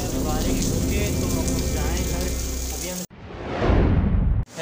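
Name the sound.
heavy rain in Karachi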